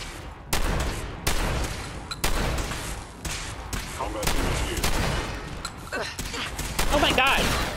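Rapid bursts of gunfire from Fallout 4, sharp repeated shots in quick clusters with brief gaps, loud and close throughout.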